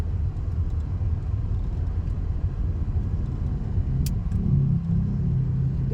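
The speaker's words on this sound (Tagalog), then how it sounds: "Dalawa palang truck yan eh" Two large trucks hauling soil roll past on a road in the Philippines, a heavy, steady engine rumble dominating, with a brief higher rise near the end as the second truck closes in.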